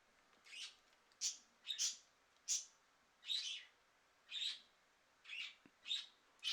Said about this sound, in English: I apologize for the birds. They're rather excited.